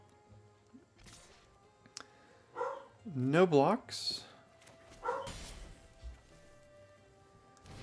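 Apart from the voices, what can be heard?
dog barking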